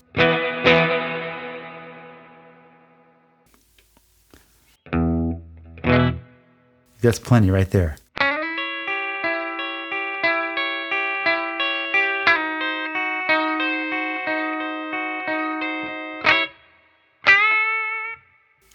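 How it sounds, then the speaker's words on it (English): Electric guitar notes ring out through a heavy reverb pedal, decaying into a wash of sound; someone speaks briefly between passages. "All you're hearing is the reverb."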